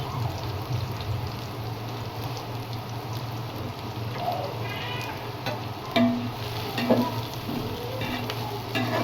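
Tomato and garlic frying in a pan, a steady close sizzle with a low hum underneath and a few scraping stirs near the end, no talking.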